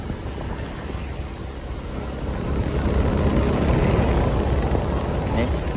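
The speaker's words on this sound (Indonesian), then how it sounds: "ini adalah air terjun Lembahanai" Lembah Anai waterfall: a steady, dense rushing roar of falling water, continuous throughout and growing slightly louder partway through.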